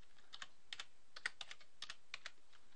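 Quiet keystrokes on a computer keyboard come in short irregular bursts while names are entered into a spreadsheet, close and soft with no voices.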